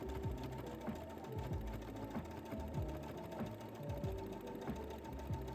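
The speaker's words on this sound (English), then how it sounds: "stretching the elastic out on both ends to align with the lace, and using the 1mm zigzag stitch" A sewing machine runs steadily throughout, stitching elastic onto lace with a narrow 1mm zigzag stitch, giving a continuous rhythmic whirring chatter at close range with no voices.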